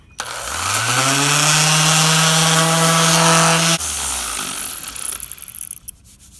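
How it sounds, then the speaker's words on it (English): Power buffer sanding a weathered wooden deck torn up by a pressure washer, its motor spinning up to a loud steady whine and grinding against the boards, then dropping pitch and winding down near the end. "So we're just gonna buff that out."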